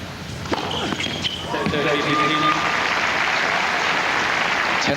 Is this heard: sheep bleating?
no